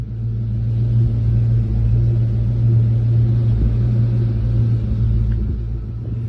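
A zinc yellow 2001 Ford Mustang GT with its 4.6 V8 idles smoothly, giving a steady, even low rumble that stays close and constant throughout with no revving.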